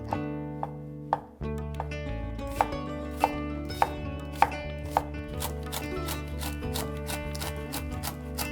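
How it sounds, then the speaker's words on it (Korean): A knife chops steadily on a cutting board, sharp regular taps against a background of soft music, close and clear with no talking. "적당한 두께로 그냥 가볍게 칼질해 주시면 됩니다"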